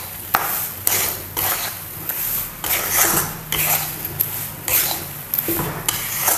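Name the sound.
roasting gram flour in a pan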